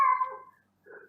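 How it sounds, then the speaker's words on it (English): An older cat gives a drawn-out, fairly loud meow close by that trails off. After a short pause comes a second, softer and briefer cry, with no talking. "It's my cat."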